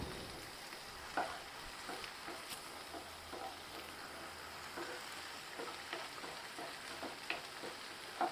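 Mint rice paste being stirred into a hot pan, with a steady soft sizzle of frying and scattered scraping, tapping clicks from the spoon against the pan, close and fairly quiet, no voices.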